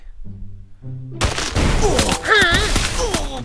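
Rapid video game gunfire bursts out loudly after a brief tonal in-game sound, a dense sustained fusillade with whistling tones mixed in over the final two seconds.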